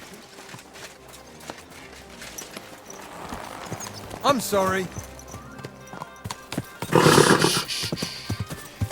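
A horse's hooves clip-clop nearby, then it gives a loud, whinnying neigh. Someone speaks briefly over the animal sounds.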